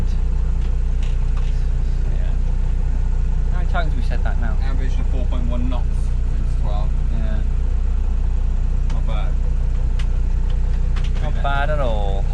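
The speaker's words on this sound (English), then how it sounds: "We've been on the engine for about 12 hours now." A sailboat motoring under engine power on a windless passage from the Caribbean toward the USA, its steady low idle-like drone running continuously beneath intermittent conversation between crew members.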